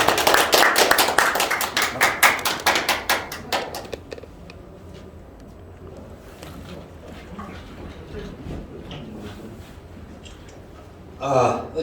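Audience applause at the opening ceremony of an academic conference, a rapid dense burst of clapping for about four seconds that thins and fades into room noise, with a voice speaking later.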